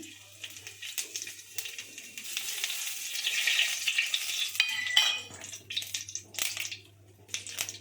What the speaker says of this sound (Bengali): এবার আমি জিরে ফোড়নটা দিয়ে দিচ্ছি